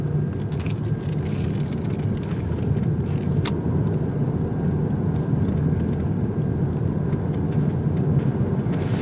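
A 2019 Lexus UX250h hybrid circling a turning circle, heard as a steady low road and engine rumble with constant tire noise and one brief sharp squeak partway through.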